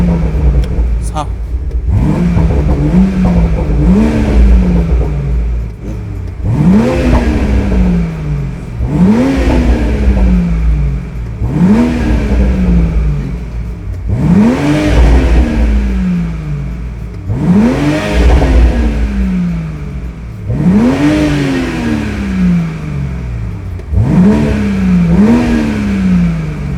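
The engine of a BMW Z4 M40i convertible is revved again and again, about seven rising and falling revs every few seconds, loud and close, with people talking over it.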